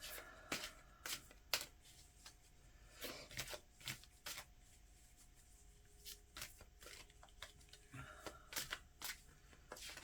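Oracle cards being shuffled by hand, a faint series of quick riffling flicks and soft papery slaps in irregular bursts, close and quiet.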